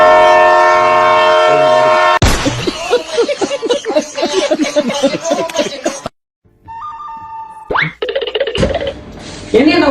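A train near a railway station sounds a loud, sustained horn, then rolls past with rhythmic, clattering wheel and carriage noise. A brief gap follows before more horn tones and rail clatter, with voices audible at times.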